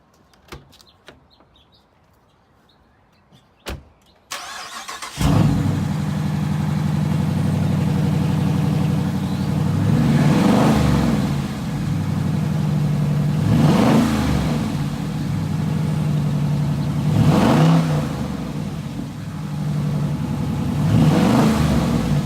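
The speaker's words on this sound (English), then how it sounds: "I'm gonna record while I rev up the car so you guys can see the difference." A car engine fitted with a K&N high-flow air filter starts with a sharp burst, then settles into a steady idle, revved up loudly about four times in regular surges, alone without talk.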